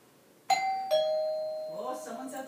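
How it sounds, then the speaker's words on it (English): A two-tone doorbell chime rings, ding then dong, its notes ringing out clearly before fading, with faint voices starting up afterward as a Morkie dog practices manners. "just count to five and ring the bell"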